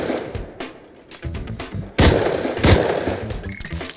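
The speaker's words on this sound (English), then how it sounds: "So I went back out with an M9 pistol to redeem myself." M9 pistol fired in the Rust console game, several sharp loud shots in quick succession amid other gunfire and combat noise, close and punchy.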